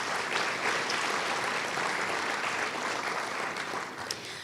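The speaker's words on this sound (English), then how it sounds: "Please give him a round of applause." Sustained applause from an audience at a Martin Luther King Jr. Day celebration, dense even clapping that holds at a fairly steady level throughout without voices.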